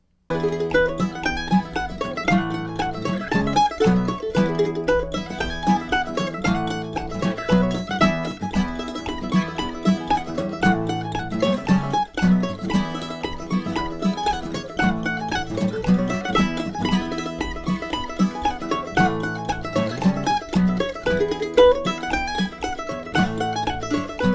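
A mandolin plays the Celtic tune McArthur Road alone, lively and bright, quick plucked notes in a steady dancing rhythm, clear and close.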